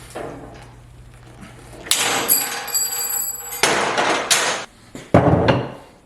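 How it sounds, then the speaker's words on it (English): Several sharp metallic hammer blows land on a steel handle clamped in a bench vise for a BBQ grill grate build. They come in uneven bursts with ringing clanks and short pauses between them. "give it a whack with the hammer"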